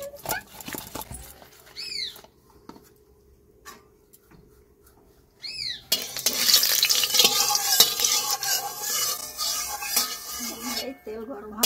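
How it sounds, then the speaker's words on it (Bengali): Pond fish is mixed by hand with salt, turmeric and chili powder, giving close stirring and squelching noises with occasional clinks of a dish, which grow louder and busier in the second half alongside distant birds. "মাছে লবণ, হলুদ, একটু লঙ্কা গুঁড়ো দেবো, এইভাবে মিশিয়ে নেবো সব।"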